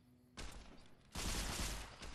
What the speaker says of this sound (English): Laser Tommy gun.